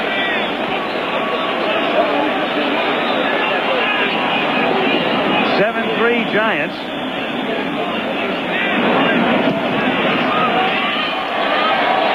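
A crowd of about 15,000 at a 49ers versus Giants Monday night football game roars steadily and loudly throughout, a dense wall of cheering with a brief dip midway, while an announcer talks over it.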